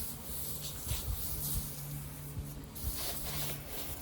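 Foam-covered car body being scrubbed during a home wash, giving a steady close rubbing and brushing texture with soft repeated strokes over a low background hum.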